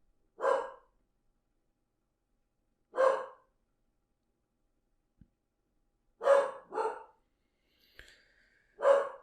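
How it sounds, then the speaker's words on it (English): Dogs bark in the neighborhood scenery of the video game Sakura Fox Adventure, sounding as separate short barks: two spaced single barks, then a quick pair and a final bark, fairly close and clear, with no talking. "Great, dogs in the neighborhood talking, and Miles, of course, has to join them."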